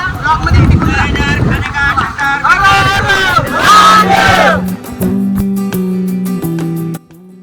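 A large Sunday crowd of devotees at Bhimashankar temple in the Sahyadri hills makes a loud, dense wash of overlapping voices and chanting, which gives way to steady, ringing sustained tones near the end.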